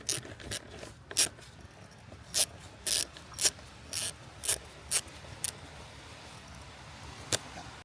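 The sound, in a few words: ratchet socket loosening a fitting on a Ford Transit Connect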